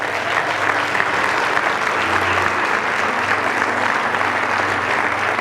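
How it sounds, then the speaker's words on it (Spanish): A church congregation breaks into loud, continuous applause during a sermon, an even wash of clapping with a low sustained tone, likely an organ or keyboard, humming beneath it. "dale el aplauso"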